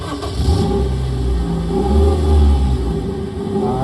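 A car engine starts and revs, a loud, close mid-pitched motor rising in a couple of surges and settling back to a rumbling idle.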